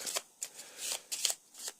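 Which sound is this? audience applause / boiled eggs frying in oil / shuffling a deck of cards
shuffling a deck of cards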